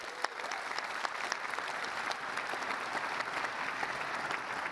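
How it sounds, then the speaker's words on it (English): Sustained audience applause for an event sponsor during closing remarks at a conference gathering, a steady, even wash of many hands clapping with a few sharper claps standing out. "So give them a round of applause"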